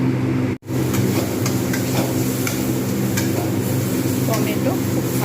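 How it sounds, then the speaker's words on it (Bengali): Tomato masala sautés in hot oil for a prawn, potato and pointed gourd curry, giving a steady close sizzle with faint scraping stirs and a brief gap near the start. "বেশ ভালো করে এগুলো আমি কষবো যতক্ষণ পর্যন্ত না এগুলো খুব সুন্দরভাবে মেল্ট হচ্ছে"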